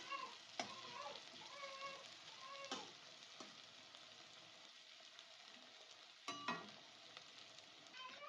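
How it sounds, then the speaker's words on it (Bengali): Chopped onion frying in hot oil in a Bengali home kitchen for egg chops, a steady close sizzle broken by a few sharp stirring clicks and scrapes. "পেঁয়াজটা একটু ভাজা ভাজা হবে।"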